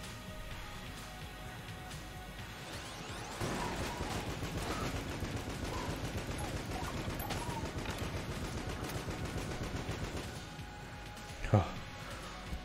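Rapid gunfire and explosive bursts from a drill gun in the video game Enter the Gungeon, a dense continuous clatter with people talking over it, ending with a sharper louder burst.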